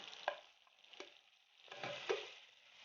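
Tomatoes go into meat already fried in ghee while a spoon stirs the pot; a steady sizzle runs under repeated scraping strokes, close and moderate in volume.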